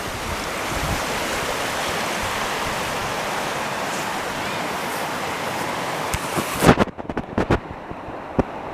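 Heavy rushing water at the foot of an old dam near Saint-Brieuc, a steady broad roar close by that runs unbroken for most of the stretch, then gives way to quieter splashing and a few sharp knocks near the end.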